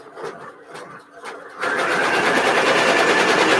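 An embroidery machine starts up partway through and keeps running with a steady, fast mechanical stitching whir, preceded by a few soft handling sounds.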